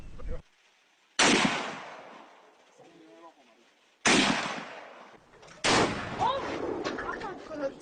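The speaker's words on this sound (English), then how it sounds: "Look at that, that's a pistol." Pistol shots in a game, three sharp loud blasts each trailing off into a decaying echo, with brief quiet gaps between them.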